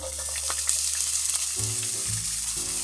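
Steady frying sizzle of onions in a hot pan, close and continuous, with a few light clinks and scraping stirs partway through; no voices.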